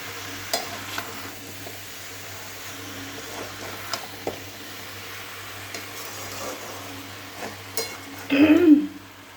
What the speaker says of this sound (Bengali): সব কষিয়ে একসঙ্গে এভাবে ভালো করে এখন কষিয়ে নেব।